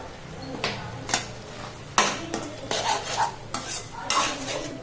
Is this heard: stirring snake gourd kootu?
yes